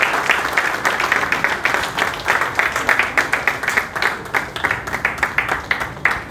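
A large audience at a stage event for crown-and-above leaders claps loudly and continuously in rhythmic bursts as the leaders walk on stage.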